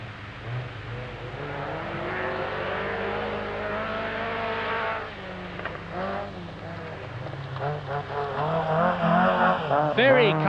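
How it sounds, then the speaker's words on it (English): A number 10 Opel Ascona 400 rally car, right-hand drive, races at the 1981 Esgair Dafydd rallysprint. The engine note holds a steady roar and then climbs into louder revving, rising pitch sweeps and gear changes toward the end. "number 10, Opel Ascona 400, like Jimmy McRae's car"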